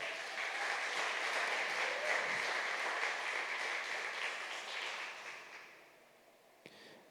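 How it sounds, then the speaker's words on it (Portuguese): A church congregation applauds during a worship service, a dense, sustained wash of clapping that fades out toward the end, leaving near silence. "Você pode aplaudir Jesus?"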